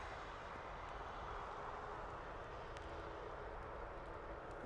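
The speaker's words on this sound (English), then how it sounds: "I can hear a prop as well off in the distance." A propeller aircraft engine drones far off near Dublin Airport, a faint, steady hum under a broad wash of ambient noise.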